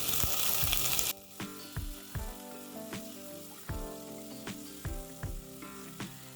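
Chopped tomatoes go into hot oil in a pan for an Assamese-style goat mutton curry. A loud initial sizzle settles into steady frying, broken by repeated sharp scrapes and stirs of a spoon.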